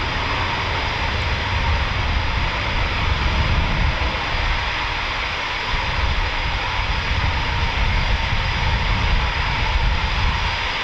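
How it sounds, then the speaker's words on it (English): Eurofighter Typhoon FGR4 fighter jet taking off at an RAF station, a loud, continuous jet engine roar heard close by, steady and broad throughout without speech. "Clear for takeoff, Havoc, here we go."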